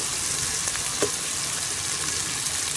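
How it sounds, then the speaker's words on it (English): Onion, garlic, pepper and ginger sauté in a hot pan with a steady, close sizzle, broken by a few faint utensil taps. "you are going to allow it to saute for about 4 minutes until you have a nice light brown color"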